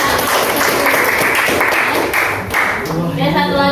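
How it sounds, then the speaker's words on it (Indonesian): A classroom of students clapping together for a classmate, a dense, steady patter of many hands lasting throughout, with a voice speaking over it near the end. "Oke, beri tepuk tangan untuk nomor 1."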